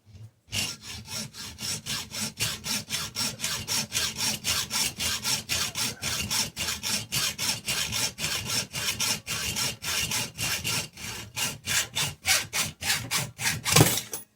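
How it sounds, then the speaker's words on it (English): A hacksaw cuts nubs off a toy tractor part clamped in a vise, producing steady, rhythmic rasping back-and-forth strokes, about three per second, close and clear throughout with no talking. "we got to cut off these nubs. And that's just with a simple vise and a hacksaw."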